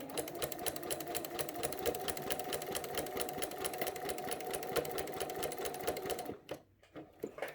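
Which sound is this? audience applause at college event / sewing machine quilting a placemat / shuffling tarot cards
sewing machine quilting a placemat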